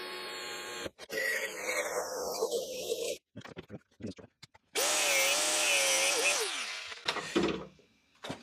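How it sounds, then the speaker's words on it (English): A power drill whirs loudly in several bursts, drilling large socket-access holes in a Ford Mk2 Fiesta XR2 rallycross car, its pitch rising and falling as it bites in, with clattering handling noises and pauses between runs. "we're going to drill massive holes just so we can get our socket in there"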